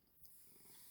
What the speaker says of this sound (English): I don't know if you can hear him purring on this podcast, but he has been purring the whole way through